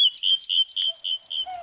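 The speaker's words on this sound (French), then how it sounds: "Elle s'était changée en rossignol et chantait." Nightingale singing as a sound effect in a fairy tale reading: a rapid series of bright, clear chirps and whistled notes in a quick rhythm, close and distinct with no voices.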